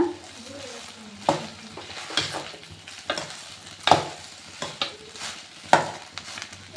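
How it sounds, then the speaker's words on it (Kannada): Fried rice ingredients being stirred together in a hot pan, with a steady frying sizzle broken by repeated sharp scrapes and clacks of the spoon at irregular intervals, close and fairly loud. "ಇವಾಗ ಇದನ್ನು ಮಿಕ್ಸ್ ಮಾಡ್ಕೋಬೇಕು."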